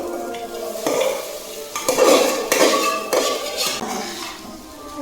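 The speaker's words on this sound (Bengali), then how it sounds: "আর ভাজা হয়ে গেছে এখন ভাতগুলো দিয়ে দিচ্ছি" Rice is stir-fried with a spoon in a pan seasoned with chili powder, giving loud repeated metallic scrapes and clanks of the spoon against the pan over a soft sizzle.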